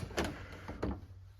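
A drawer in an old workbench slides open in two quick scraping pulls, close and moderately quiet, in a workshop.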